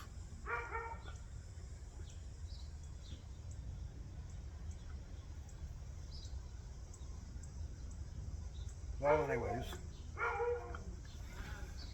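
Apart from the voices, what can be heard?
dog barking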